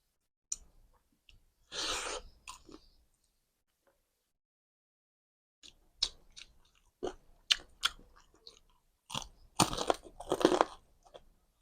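Crispy pork bone crunched and chewed alongside spicy papaya salad, close and dry, in separate bursts of crackling bites with short quiet gaps between them, no talking.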